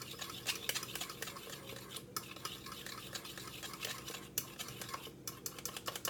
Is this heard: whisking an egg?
yes